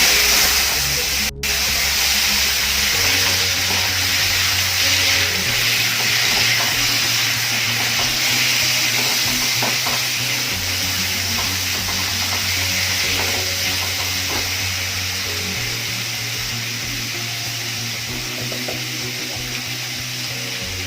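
Boiled potatoes frying with salt and turmeric for a dry okra and potato curry, a loud, continuous hissing sizzle that holds steady and eases slightly toward the end, with no voices.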